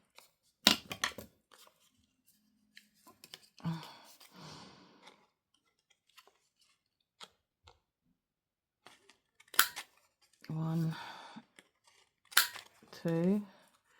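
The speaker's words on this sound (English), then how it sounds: "And then I can get this card and cut it." Scissors cutting card for making tags, a few crisp snips and short cutting runs spaced out between quiet gaps, close by, with someone speaking in between.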